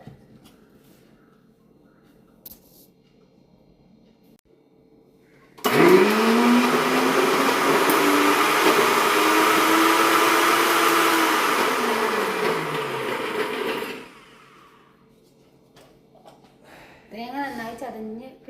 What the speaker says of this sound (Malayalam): തേങ്ങ ഇട്ടെടുത്തു, പച്ചമുളക്, വെളുത്തുള്ളി, ചെറുള്ളി. ഇതെല്ലാം നന്നായി ഒന്ന് അരച്ചെടുക്കട്ടെ.